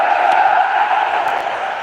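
A steady, even roar from a large stadium crowd at a Real Madrid football match in the EpicFootball game, a flat sustained murmur with no cheering peaks.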